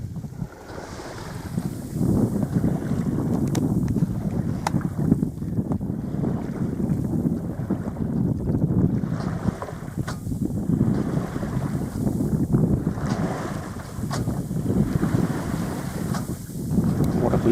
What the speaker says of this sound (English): It's nice just to listen to the ripple of the waves.